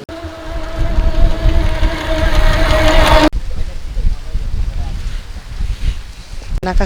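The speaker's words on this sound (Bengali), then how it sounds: "বাতাস অনেক জোরে বাতাস হচ্ছে" Strong wind blows outdoors ahead of a storm, a loud continuous rushing buffet that drops off abruptly halfway through, with a voice talking over it.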